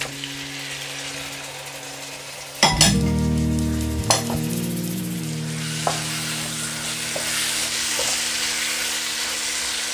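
Tomatoes go into a hot pan of black urad dal curry with green masala, giving a loud burst of frying at first, then a steady sizzle with a few clanks of a spoon or pan and no voices.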